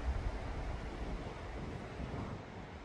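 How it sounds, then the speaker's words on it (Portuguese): Wind blows through pine trees beside a large lake, stirring up small waves; the low rushing roar sounds steady and faint, with no talk. "E o barulho do vento nos pinheiros."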